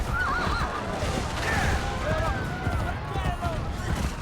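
Video game horse from Assassin's Creed Brotherhood neighing and whinnying in a few wavering calls over a busy, noisy game background.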